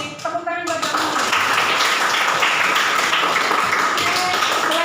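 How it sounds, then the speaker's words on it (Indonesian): A classroom of students claps for a classmate, dense, steady applause that rises quickly after a brief opening and holds at a constant level to the end. "Tepuk tangan buat Dominik."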